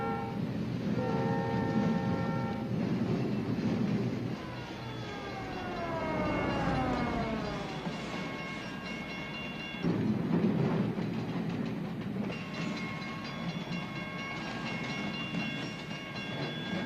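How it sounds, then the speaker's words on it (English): A very long freight train rolls past with steady rumbling and rhythmic wheel clatter, its horn sounding in long sustained blasts and sliding, Doppler-like tones as it passes close by, loud and continuous throughout. "The longest freight train I've ever seen in my life."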